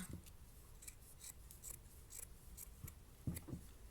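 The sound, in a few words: scissors cutting a sweater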